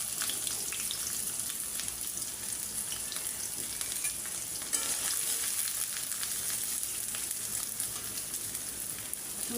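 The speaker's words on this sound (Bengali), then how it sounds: "শুটকিগুলো আমি ভালো করে ভাজা নিলাম।" Dried fish sizzles steadily in a pan with garlic, onion and green chili, a continuous close, fairly loud frying hiss with no talk.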